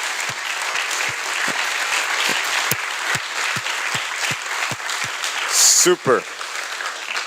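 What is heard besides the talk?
audience applause for Jessica Meir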